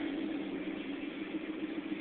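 A 1992 Dodge Dakota 4x4 engine runs at a steady idle, a close, even rumble that holds constant without revving and with no talk over it.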